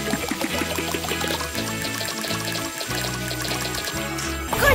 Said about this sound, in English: Marshall needs to fill up the water tank first